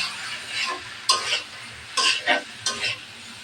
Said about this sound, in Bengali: এটা একটু 5 মিনিট কষিয়ে নেব